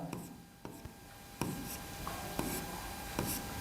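Chalk or marker strokes on a classroom board during a Hindi-language English grammar lesson, a series of short scratchy scrapes and taps spaced irregularly over a few seconds, close by and fairly quiet.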